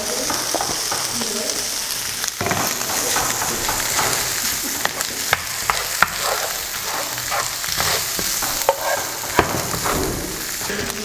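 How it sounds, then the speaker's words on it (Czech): Bacon and onion frying in a pan, a loud, close, continuous sizzle with frequent sharp crackles and pops and occasional stirring scrapes. "Potom, co osmahnete slaninku a cibuli, přidáte žampiony."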